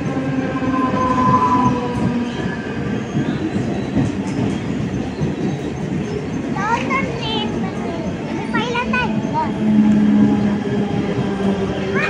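A Panvel-bound local train pulls into a platform with loud continuous rumbling and rail clatter, with brief squeals of brakes. Voices and children can be heard around the station.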